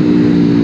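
A 2019 Aprilia Tuono V4 1100 Factory motorcycle's V4 engine runs in a steady, deep, loud drone, heard close and alone with no talk for under a second.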